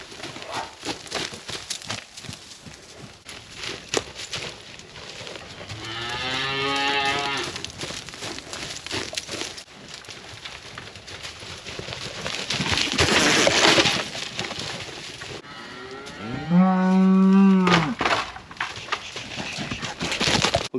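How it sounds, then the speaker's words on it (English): Cull cows held in a tub alley moo loudly and close, with two drawn-out calls standing out from a quieter farmyard background of shuffling and distant animal noise. "We got all the cows here in the tub alley"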